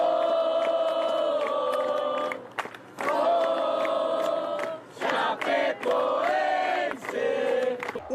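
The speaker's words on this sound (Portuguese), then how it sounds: "Perto da Arena Condá, o cortejo foi recebido pelo coro da torcida" Football supporters chanting together in a loud, sustained chorus near the Arena Condá in Chapecó, with swelling sung phrases and brief dips between lines.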